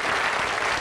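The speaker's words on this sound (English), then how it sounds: "Ladies and gentlemen, round of applause." A studio audience at a television chat show bursts into dense, steady applause, loud and close, filling the whole short moment without any voices over it.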